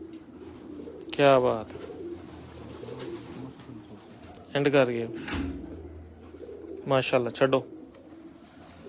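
Pigeons coo in short bursts near an outdoor garden gathering, three clear calls rising over a low murmur while men chat and exclaim in between.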